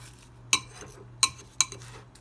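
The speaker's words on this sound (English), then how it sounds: "I'm just going to keep stirring it." A spoon scrapes and clinks in a bowl of icy banana nice cream, three distinct sharp taps spaced about half a second apart, with faint softer stirring between them over a low hum.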